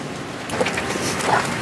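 Steady broadband roar fills the cabin of a large passenger airplane sitting before takeoff, a constant loud hiss and rumble with faint brief sounds of movement on top.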